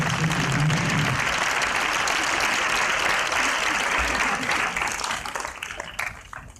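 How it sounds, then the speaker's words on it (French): A studio audience at a French talk show gives loud, sustained applause that holds steady for several seconds before tapering off toward the end. "je pense que ça mérite vos applaudissements"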